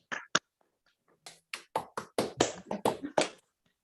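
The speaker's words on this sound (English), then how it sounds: "Let's unmute ourselves to give Amir an applause" Scattered claps from a small online audience at a mathematics talk, a short uneven run of about a dozen separate hand claps, faint and dry over a video call with no talking.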